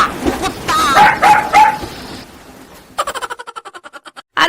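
A dog sound effect: a short burst of yips and barks, then a rapid run of evenly spaced sharp barks, loud and close, following talk by a man.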